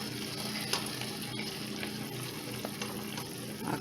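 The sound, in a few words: stirring pineapple cherry glaze in a pan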